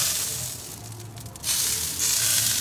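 Pork loins sizzle on an outdoor grill with a steady broad hiss that swells louder partway through, close and continuous with no talking.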